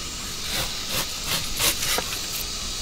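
A knife cuts cured pork on a board in a country kitchen, making a quick run of soft, hissing strokes that repeat at a steady rhythm, close and fairly quiet.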